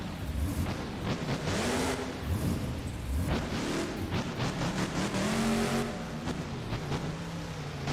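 A simulated monster truck called Mohawk Warrior in a Monster Jam arena at the Tacoma Dome roars through hard throttle revs, pitch sweeping up and down over eight seconds of continuous loud engine noise with bumps and landings.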